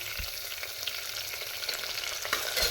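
Onions, four medium ones, frying in a pan for wheat upma give a steady broadband sizzle with occasional stirring scrapes, close and continuous with no talking.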